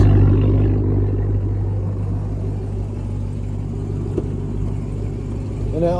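2022 RAM TRX pickup with an aftermarket Borla exhaust idling, a steady deep low rumble holding even and close for the whole stretch with no revving.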